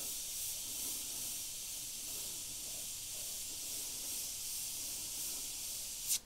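A Gaahleri Mobius 0.2mm airbrush sprays paint as one steady, even hiss of air close to the microphone, ending with a short louder burst.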